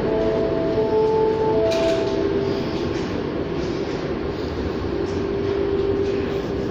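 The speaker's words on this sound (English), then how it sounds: "U2 LRT train hauling northbound 1034" An Edmonton ETS U2 light rail train on the Capital Line rolls past close by. A steady rumble of wheels on track carries brief squealing tones and clicks at rail joints, with no voices.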